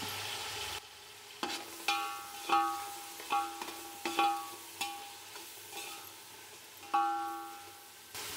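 Chopped tomatoes fry in a pan with rock salt and turmeric for Karnataka-style bisi bele bath, giving a steady sizzle broken by repeated scraping stirs of a spoon against the pan, close and alone with no talk.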